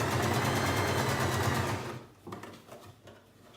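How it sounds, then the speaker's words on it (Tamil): A sewing machine stitches along a churidar neck, running in a steady loud whir for almost two seconds before stopping, followed by a few faint soft handling clicks. "இதை ஒட்டின மாதிரி ஸ்டிச் பண்ணிக்கணும்."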